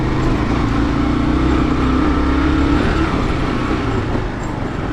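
Off-road vehicle on the Rubicon trail with its engine droning steadily and loudly up close as it loses traction, a continuous rumble with no talk.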